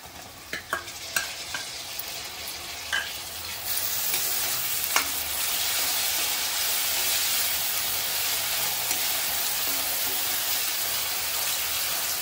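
Onion and tomato sauté in a pan for a potato and brinjal gravy. A few clinks and scrapes come first, then a loud, steady sizzle fills the rest, close by and without talking.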